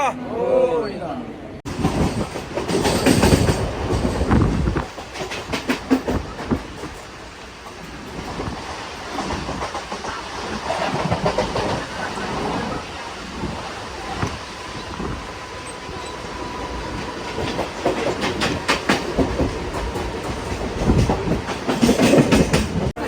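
A crowded Kalyan-line passenger train heading to Diva rumbles along with rhythmic clatter and steady rolling noise, a crowd's voices chattering throughout close by.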